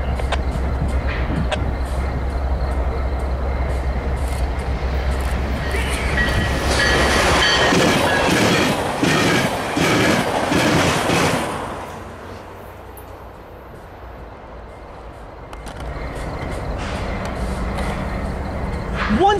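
A Metrolink commuter train rumbles past in Southern California, with loud, close roaring and rhythmic clattering wheels that swell and then fade. A quieter stretch follows, and people talk faintly over parts of it.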